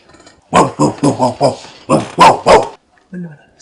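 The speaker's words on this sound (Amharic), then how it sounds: "ውሻ ጮኸ።" A dog barks in a quick series of six or seven loud, close yaps, bunched in two bursts with a short pause between, then a faint whimper as the barking stops.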